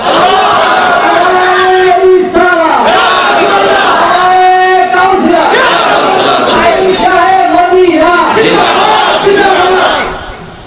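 A large crowd at a Bengali Islamic sermon roars the takbir response in loud, sustained chanting, with voices swelling and repeating in waves for about ten seconds before fading at the end.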